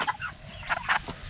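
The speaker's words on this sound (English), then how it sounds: "I just want to show a chicken really quick. Full 6-week-old chicken." A six-week-old meat chicken gives a few soft, short clucks in quick succession, heard close up against a faint background hum.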